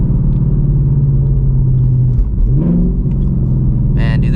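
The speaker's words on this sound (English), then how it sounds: "this car just has an H-pipe resonator delete and an E30 blend" A Ford Mustang GT S650 with a Gen 4 Coyote V8, H-pipe resonator delete and E30 fuel rumbles loudly up close, dips briefly mid-rev as if shifting, then pulls back up in a deep, throaty drone.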